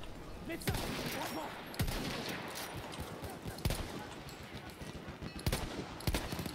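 Gunfire in the video game Battlefield 1, with Gewehr M95 rifle shots on a ship map: single sharp cracks spaced about a second apart over constant battle noise, with voices talking faintly underneath.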